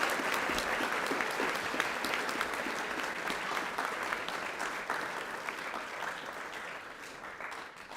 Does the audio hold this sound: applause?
yes